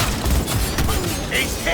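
Gunfire in the video game Cyberpunk 2077, dense rapid shots and booming impacts packed into a short loud burst with no pauses.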